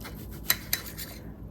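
A knife scrapes and taps on a plate while slicing a gluten-free subscription-box meal with carrots stuck to it, two sharp clicks over faint rubbing, quiet and close.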